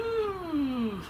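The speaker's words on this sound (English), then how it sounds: "What you say, Buttercup? Meow." A single drawn-out, descending meow, close and fairly loud, wavering slightly as it falls in pitch over about a second.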